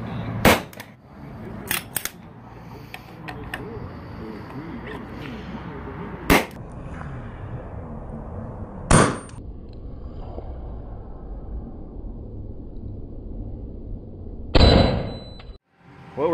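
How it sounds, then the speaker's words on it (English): Nails are hammered into wooden framing for a column box during a column replacement project. Sharp, loud hammer strikes come at irregular intervals, some as quick double hits, over a steady background rumble. "we got our base covered and we're just nailing now the top piece in"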